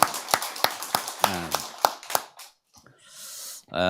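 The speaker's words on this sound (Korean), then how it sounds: "박수 치려면 확실하게 한번 치고 하나님의 영광의 박수로" A congregation at a Sunday church service claps in unison, about eight sharp, evenly spaced claps in a steady rhythm, followed by a pause and then a voice speaking.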